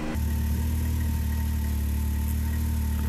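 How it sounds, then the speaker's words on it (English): A Can-Am Maverick X3 Turbo engine runs steadily and close, holding a constant low rumble and drone with no clear rev change. "I'm going to go ahead and do a four-wheel drive launch with both of us in it"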